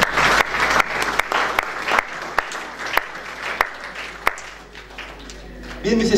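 A church congregation claps and applauds for Jesus during a service, a dense round of clapping with sharp individual claps standing out, and a voice speaking over the start.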